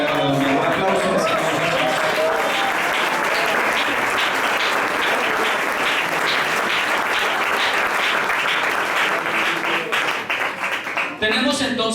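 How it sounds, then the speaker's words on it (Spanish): A church congregation at a Spanish-language Sunday school sermon breaks into sustained applause, dense clapping that holds steady for several seconds before thinning out near the end. "Un aplauso"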